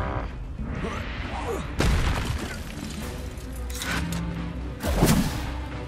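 A Confringo fire spell explodes in the Hogwarts Legacy video game, heard as sharp booming bursts with crackling tails, two strong blasts about three seconds apart over a dense rumbling combat backdrop.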